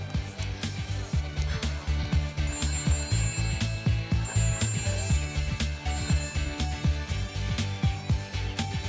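A telephone rings in a home amid a rhythmic musical beat, bright bell-like tones recurring steadily with no voices.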